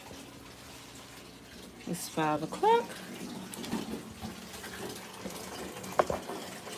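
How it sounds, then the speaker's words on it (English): Cold water runs from a tap into a bathtub while clothes are being washed, a steady splashing rush that continues throughout as a person speaks briefly over it. "Now I got to run some water, cold water in this water."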